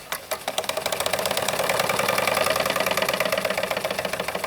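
A Wilesco D24 toy steam engine idles steadily up close with a fast, regular clanking rhythm from its governor balls throughout, no voices.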